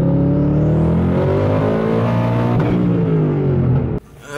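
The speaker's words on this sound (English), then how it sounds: "last second gear pull for this car with the turbos" Turbocharged car pulling hard through second gear, a loud, close engine note rising steadily in pitch for about four seconds before cutting off abruptly near the end, with no talking.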